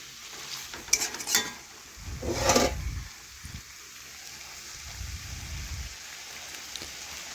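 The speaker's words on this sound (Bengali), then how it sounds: "এই দেখুন এটাও এভাবে নাড়াচাড়া করে একটু কষিয়ে নিচ্ছি" Shrimp and vegetable curry is stirred in a pan, soft sizzling under a few scraping strokes and light utensil taps, quiet and close, with gaps of near stillness between bursts.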